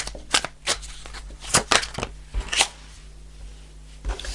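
Tarot cards are shuffled in a series of short, crisp riffles and flicks, close by, with small pauses between bursts.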